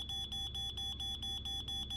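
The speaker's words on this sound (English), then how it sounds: "Utilize the detectors during a home fire drill to get used to the noise." A home smoke alarm beeps in a rapid, steady series of high, piercing pulses, repeating evenly and loudly with no voices.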